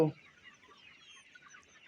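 Chickens on a poultry farm during the rainy season cluck faintly and steadily at a distance, a brief low murmur of birds after a short opening thump.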